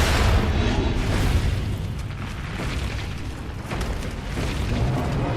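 Heavy booming blasts from a hand cannon in the action game Nioh, loud rumbling low-end bursts that roll on continuously without talk.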